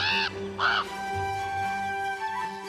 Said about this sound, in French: Parmi les oiseaux qui peuplent les grandes plaines d'Amérique du Nord, il y a le corbeau